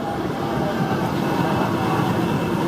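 A roller coaster train at Worlds of Fun in Kansas City rolls along its track in a steady, dense rumbling roar, close and continuous throughout the brief stretch.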